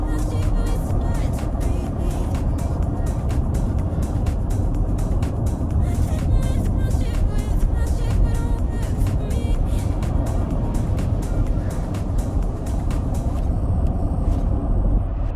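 A car on a main highway through a winter storm in Ohio gives a steady, loud road and engine rumble with tyre roar that runs without a break for the whole stretch.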